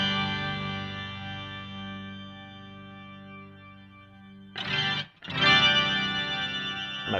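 Electric guitar through an Electro Harmonix POG2 octave generator pedal with the detune slider raised, a sustained shimmering chord with chorus-like wobble fading out, then freshly struck chords ringing loud and close.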